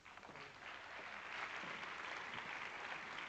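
Sustained audience applause at a formal African leadership conference, a dense, steady wash of many hands clapping that holds at full strength for the whole stretch with no talk over it.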